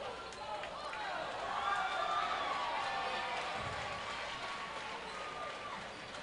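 Crowd at a boys' high school basketball game cheering after a referee's call, a broad swell of voices and shouts that rises and holds for several seconds with a commentator talking over it.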